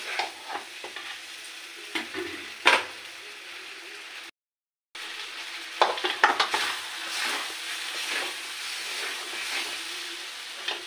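Sauce stirred into a sizzling frying pan while cooking a homemade Bengali recipe, with scraping stir strokes over steady frying hiss, a brief silent gap midway, then louder clattering stirs.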